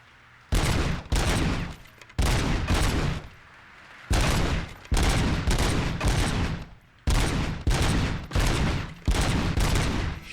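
Loud bursts of automatic gunfire from the video game RoboCop Rogue City, several sustained volleys separated by short gaps, close and dominating the scene with no talking.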